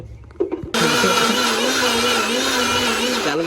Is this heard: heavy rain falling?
no